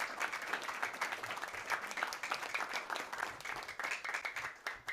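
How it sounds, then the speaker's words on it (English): An audience at a school district board meeting applauds students, dense clapping from many hands sustained evenly throughout, close and fairly loud. "Let's give them another round of applause."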